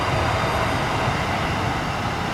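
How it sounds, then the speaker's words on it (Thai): A steady, rumbling roar of an inbound SRT Red Line electric commuter train from Rangsit arriving close by, broad and even with no pauses. "นี่เป็นรถไฟฟ้าสายสีแดงขาเข้าครับจากรังสิต"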